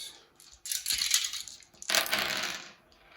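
Several dice tumble and clatter across a tabletop during a Kill Team wargame, in two quick bursts of rattling impacts, close and fairly loud, with no talk over them.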